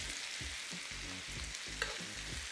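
Lamb chops sizzling in a pan while basted with garlic and rosemary herb butter, a steady loud frying hiss with rhythmic scraping and spooning pulses, close up with no talking.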